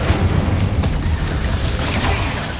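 Incendio fire spell cast in Hogwarts Legacy, a loud booming burst with rumbling low-end explosions and crackling pops running densely through the whole short stretch.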